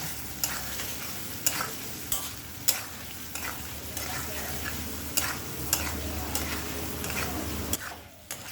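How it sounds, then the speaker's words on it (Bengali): Spice paste stir-fried with potato and pointed gourd over a low flame, a soft steady sizzle punctuated by regular rhythmic scrapes of a spatula against the pan, close up, ending in a brief quiet. "আলু পটলের সঙ্গে মশলাটা এবার গ্যাসটাকে লো ফ্লেমে রেখে 2 থেকে 3 মিনিট ভালো করে কষিয়ে নেব।"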